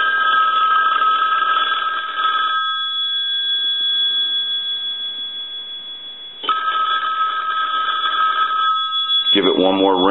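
A payphone bell box rings in two long bursts with a pause between, loud and close, and a voice speaks briefly at the very end.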